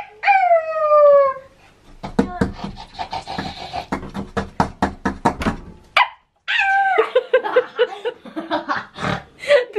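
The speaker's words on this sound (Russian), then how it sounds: "Я думала, это Бонни там гавкает, это она под дверью тут сидит" A dog howls, then barks in a rapid string of yips from behind a door, stops briefly, then resumes with more howling and barking, loud and close.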